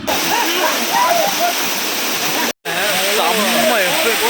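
A waterfall near Namakkal pouring with a loud, constant roar close by, with a brief cut partway through and voices faintly audible under the rushing water.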